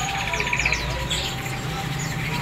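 A pleci pacitan white-eye bird at a bird shop chirps in quick, thin high tweets over a steady low hum and background noise, with other small birds faintly calling nearby.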